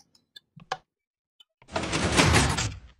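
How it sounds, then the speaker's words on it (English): A door closing in the Minecraft video game: a few faint clicks, then a sustained loud sliding, grinding rush that swells and fades over about a second and a half. "You want to close the door?"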